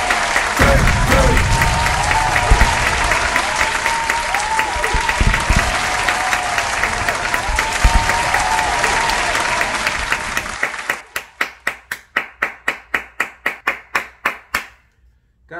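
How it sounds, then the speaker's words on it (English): Applause and clapping during a music reaction, loud dense clapping over a playing track for about ten seconds, then a single person's hands clapping in a quick, steady rhythm of distinct close claps. "Definitely gotta clap that up, man."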